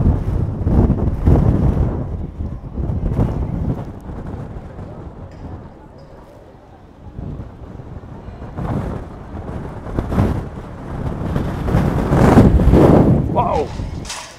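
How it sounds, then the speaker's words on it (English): Strong, gusting wind buffets the microphone outdoors at Bath Abbey, surging in loud low rumbling bursts that ease briefly mid-way before building again, with someone talking over it. "Ooh, wind is fierce."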